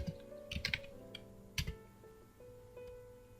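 Keys clatter on a computer keyboard as a MySQL query is typed into a database for music artists. The clicks come in a few short clustered bursts, close and moderately quiet, with gaps between them and no talking.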